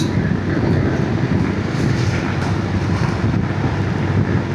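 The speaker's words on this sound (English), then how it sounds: "there's a lot of wind right now" Heavy, steady wind roaring across the microphone in the Hexi Corridor, Gansu, China, a dense low rumble with gusty buffeting that never lets up, and no voices.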